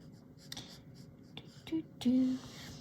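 Soft scratching of a pencil on paper in short strokes, with a brief murmur and a faint tonal sound near the end.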